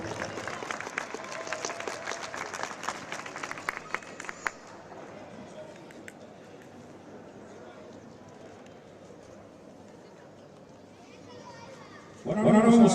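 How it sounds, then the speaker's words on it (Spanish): Applause for a prize winner at a women's cycling race ceremony in Estella, with dense clapping at first that fades into quieter crowd murmur before a sudden loud burst near the end. "Último aplauso para ella."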